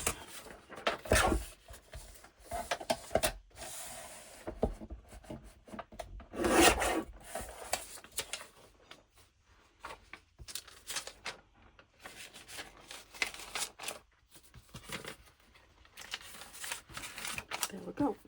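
Scissors cutting folded paper folios for a handmade journal, a series of close rasping snips and paper rubbing, with a person talking intermittently over the cutting.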